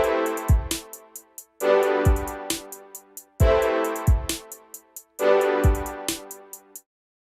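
A looped beat moves from the first chord to the seventh and cycles four times. Sustained synth chords sit over a thumping kick, a snare and ticking hi-hats, then the loop ends in silence.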